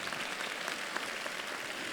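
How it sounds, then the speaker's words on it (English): Audience applause at a 2019 college matriculation convocation, a steady wash of many hands clapping, fairly faint and distant, with no talk over it. "I think that deserves a round of applause."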